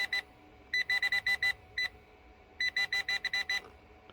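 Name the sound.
metal detector beeping over buried metal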